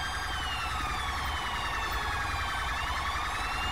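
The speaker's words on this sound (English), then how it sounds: "Alright, I'm gonna kill my siren." A loud UK police car siren in a video game wails continuously, its pitch sweeping up and down in steady cycles, with no talking over it.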